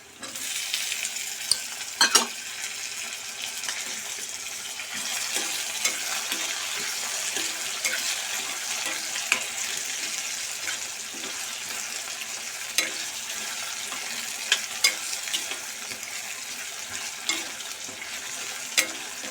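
Chopped tomatoes fry in a pan over a high gas flame, giving a continuous bright sizzle with frequent scraping and stirring clicks from a spoon, close and steady throughout with no talking.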